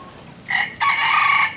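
Chickens squawk while fighting at a safari lodge in Bali: two loud, close bursts, a short shriek followed by a longer harsh crowing squawk, with no talking.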